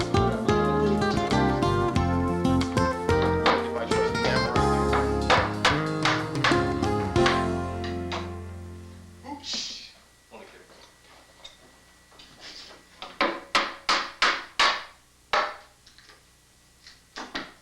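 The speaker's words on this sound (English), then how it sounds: "Removing the tacks with my shoemaker pliers, which is a good nail puller." Upholstery tacks pried out with shoemaker pliers make a run of sharp, irregular clicks and taps on wood, coming after a stretch of music.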